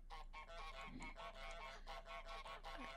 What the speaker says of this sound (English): Dude, I love my goose's hyonk.